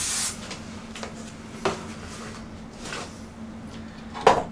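An aerosol can sprays onto batiste fabric inside a box, a few brief hissing bursts separated by pauses, close and fairly loud against a low steady hum.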